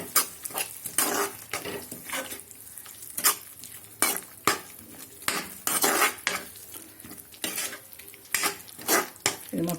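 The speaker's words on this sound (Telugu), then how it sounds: "వేసుకొని దీన్ని ఈ విధంగా తిప్పుకోండి." Potato kurma being stirred with salt in a pan, a utensil scraping and clanking against the metal in rapid repeated strokes over steady frying sizzle, loud and close with no speech.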